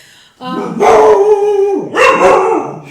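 A dog gives two drawn-out, howling barks close by, loud and yowling, the second following after a short pause.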